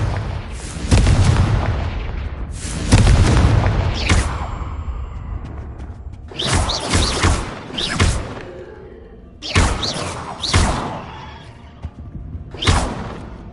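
Spell explosions from the Confringo curse in a wizard video game burst out as several loud booming blasts with rumbling tails, spaced by brief gaps, thumping close and heavy throughout.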